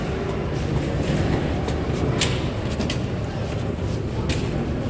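Metro train running through a tunnel in Paris near La Défense, a loud continuous rumble and roar with occasional sharp metallic squeals and clatter.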